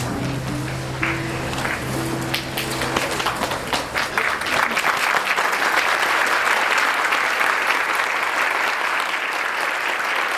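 A church congregation breaks into loud, sustained applause after the reading. The clapping swells in over a fading held musical tone and continues as a dense, close wash of claps.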